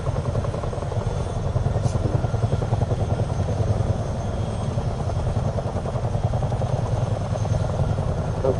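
A helicopter flies in Microsoft Flight Simulator 2024 on PS5 over offshore oil rigs, its rotor and engine drone loud, steady and continuous throughout, with no talking.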